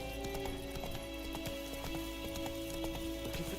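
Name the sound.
horse hooves galloping while riding, from video game Witcher 3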